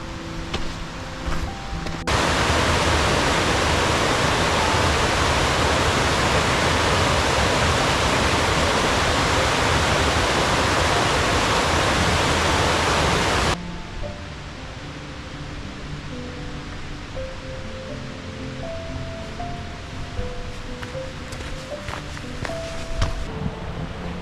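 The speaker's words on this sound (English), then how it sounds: "Sounds like the river's going pretty good to my left" Loud rushing water of a flowing river on a November hike to Arethusa Falls, a dense steady roar for several seconds, then dropping to a softer, more distant flow.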